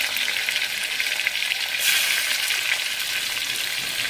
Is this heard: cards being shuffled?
no